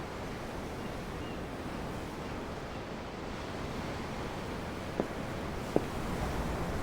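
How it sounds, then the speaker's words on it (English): Ocean waves washing against a ship in Tales of Arise, a steady broad roar of surf and wind with a couple of faint clicks, no speech. "The waves. They help me think."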